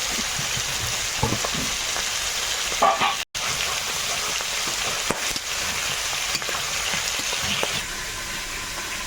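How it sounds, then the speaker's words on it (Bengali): Spice paste with turmeric frying in oil for a Sundarban-style kan magur fish curry, a continuous close sizzle with occasional stirring scrapes and a brief dropout partway through. "মশলাটা ভালো করে কষে নিয়েছি আর মশলা থেকে তেল ছেড়েছে"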